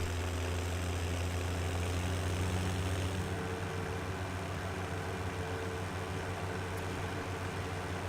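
A small two-wheel-drive Massey Ferguson utility tractor in Farming Simulator 17 idles with a steady, continuous low engine drone, unchanging from start to finish, with no voices.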